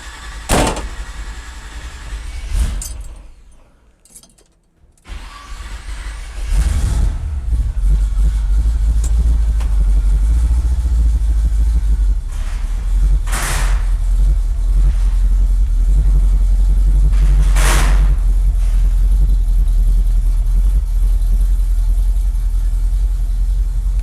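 A 1976 Firebird: a few door thuds and clunks, then the engine catches and runs loud and steady with a deep rumble that dominates the rest of the recording.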